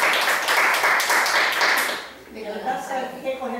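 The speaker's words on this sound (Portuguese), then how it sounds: "Uma salva de palmas para a Railda." Applause for Railda at a meeting of the Jandaia poets' society, with broadband clapping loud for about two seconds and then fading, while voices talk over the tail end.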